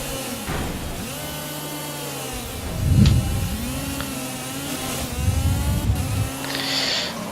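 A race car in Project Cars reverses and collides with another car, with a loud engine note, revving swells and thumping impact bursts over a steady mechanical hum.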